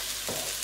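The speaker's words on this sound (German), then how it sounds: "So, Öl ist heiß, geben wir erstmal Knoblauch rein." Chopped garlic sizzles in hot oil in a pan, a steady close hiss with a brief stir-like swell in the middle, lasting under a second.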